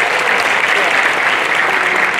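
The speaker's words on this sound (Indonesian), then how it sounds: "tepuk tangan untuk dari Papua." Applause from an audience at the closing ceremony of a human rights festival in Singkawang, a dense, steady wash of many hands clapping throughout at full volume.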